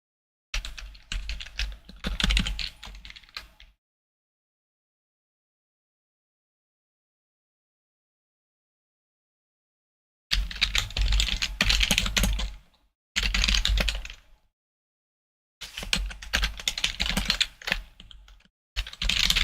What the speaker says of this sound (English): Sounds like spiders crawling all over the place when I'm typing.